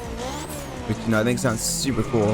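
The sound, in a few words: engine sound swap on Honda from The Crew Motorfest video game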